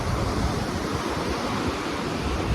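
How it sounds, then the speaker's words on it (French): Rough ocean waves at a beach in Port-Louis, Guadeloupe, a continuous loud roar of surf and wind-blown spray with no distinct breaks or voices. "il y a énormément de vagues aujourd'hui"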